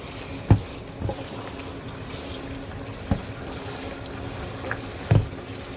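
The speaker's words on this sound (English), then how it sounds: "I use these big old cans of beans. And then I just rinse them out" Tap water running steadily over canned pinto beans in a sink, a constant close rush broken by a few soft knocks and clunks of the can.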